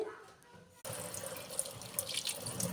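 Tap water runs and splashes while a dusty potted plant is washed. A quieter start is broken by a sudden steady gush that carries on to the end.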